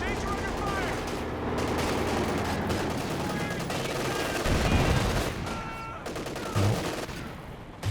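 Machine gun fire in Company of Heroes 2 rattles in dense bursts with explosions mixed in, under continuous game commentary.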